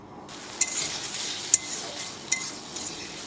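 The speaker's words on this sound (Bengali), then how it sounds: "মাছগুলো এই কারণে আগে ভেজে নিচ্ছি।" Fish pieces frying in a pan before going into a curry give a steady bright sizzle, with a few sharp spatter pops and light scraping strokes, close and constant.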